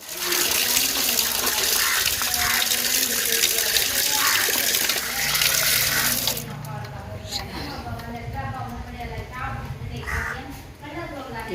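Water runs from a tap as food is rinsed, a loud steady splashing rush that drops off partway through into softer sloshing and dripping, with a person speaking throughout.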